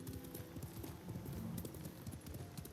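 Horse hooves clip-clop steadily at a riding gait in Ghost of Tsushima, a continuous rhythmic patter with an occasional faint whinny, no talk over it.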